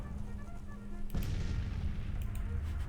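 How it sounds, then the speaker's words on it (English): Artillery shells fire in a Grand Tactician: The Civil War battle, a sudden heavy boom followed by a dense rumbling roar of distant cannon fire and sharp crackles that continue to the end. "existing artillery units that are continuing to attack us. And I suppose a few shells never really hurt anybody."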